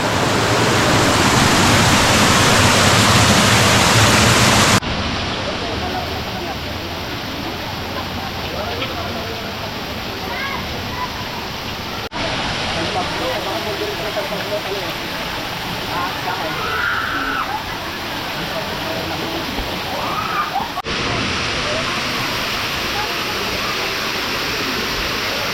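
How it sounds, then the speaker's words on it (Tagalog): Strong river current rushing and churning at a Philippine outdoor spot, a loud, continuous roar of water heard up close, with voices faintly present at times beneath it. "Ang lakas ng agos ng tubig, oh."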